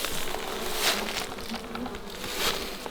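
Dense buzzing of a honey bee swarm being moved from swarm traps into hive boxes, a continuous close drone with individual bees swelling past.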